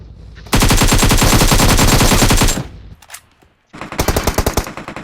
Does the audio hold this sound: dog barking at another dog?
no